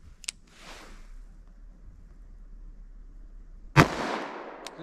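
Two sharp revolver gunshots fired through a chronograph crack out a few seconds apart, the second louder and closer, each followed by a brief echo and quiet in between.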